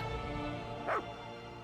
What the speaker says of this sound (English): The dog whines anxiously.